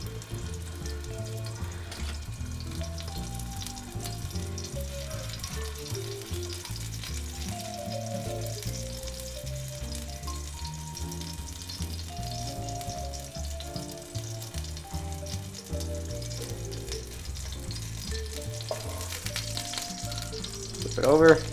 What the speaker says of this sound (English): grab a small piece of meat and we cook it